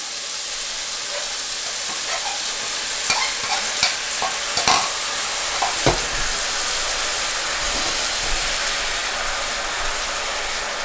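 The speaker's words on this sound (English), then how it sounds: "now we're going to add the sauce. We're going to turn the heat on medium." Chicken stir fry sizzles steadily in a pan over medium heat as honey lemon sauce goes in. Spatula scrapes and clicks ring out intermittently above a constant, fairly loud frying hiss.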